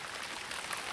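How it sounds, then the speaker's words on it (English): Heavy rain falls steadily outdoors onto a J5 tactical flashlight, a dense, constant hiss of drops with no voices. "it's been raining pretty heavily for an hour and a half now on the J5 tactical flashlight"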